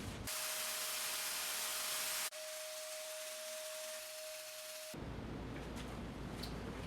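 A spray gun hisses steadily as black finish goes onto red oak wood, a loud broad hiss with a thin constant whine, switching abruptly to a different spray texture partway through, with no voices.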